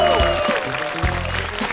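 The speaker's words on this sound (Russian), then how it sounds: "Друзья, ваши аплодисменты." Applause rises from a stand-up comedy show audience, a brief wash of clapping beneath a short musical sting with tonal swells, loud and close over under two seconds.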